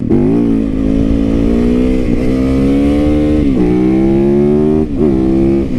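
A street-legal 2019 Yamaha YZ450FX dirt bike rides off with a loud, close engine note that climbs steadily through several gear changes, each shift marked by a brief dip before the pitch rises again.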